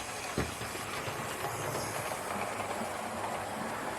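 A Hornby model railway locomotive runs along layout track with a continuous close whirring rumble and light rhythmic clicking of wheels over rail joints, with no talking.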